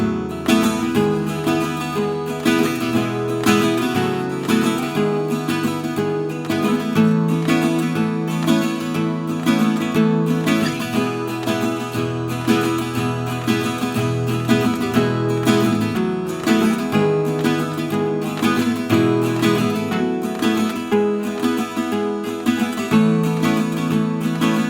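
Framus Hootenanny 12-string acoustic guitar strums chords continuously in a steady rhythm, shimmering doubled strings ringing full and close throughout.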